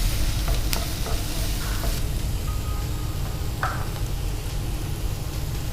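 Beetroot and carrot frying in oil in a home kitchen, a steady close sizzle with scraping stir strokes from a spoon against the pan, continuous and without speech.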